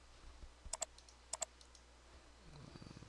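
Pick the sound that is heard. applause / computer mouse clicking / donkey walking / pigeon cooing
computer mouse clicking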